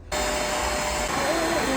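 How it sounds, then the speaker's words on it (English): A vacuum cleaner roars on abruptly and runs steadily with a hissing, whining suction tone while cleaning dirt from the carpet of a Holden VT Calais, close and loud, its pitch wavering slightly toward the end. "the vacuum will suck all the dirt out of it"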